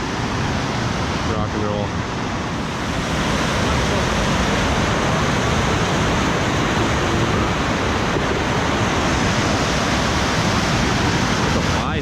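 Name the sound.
rushing river water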